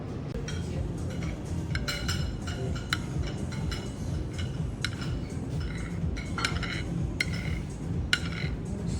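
Small spoons and chopsticks clink and tick against ceramic dishes during an omakase meal. The light, scattered taps sit over a steady low restaurant murmur with faint background voices.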